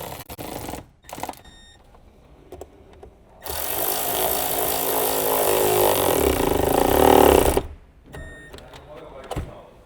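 A small electric impact wrench with a 7mm deep socket rattles steadily for several seconds while tightening an intake tube clamp on a Ford Escape, with brief clicks and handling noises before and after.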